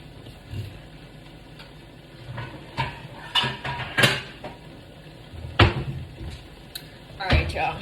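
Metal pans clatter and knock in a home kitchen during chili making, several sharp bangs and scrapes of a pan being pulled out, close and moderately loud over low room noise.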